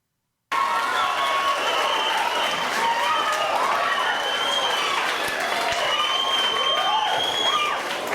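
An audience claps continuously, dense and steady, with a few scattered cheers mixed into the applause.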